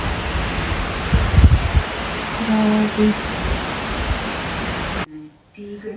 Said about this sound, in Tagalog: Biglang ulan at bigla din uh, thunderstorm. Ang lakas ng ulan talaga.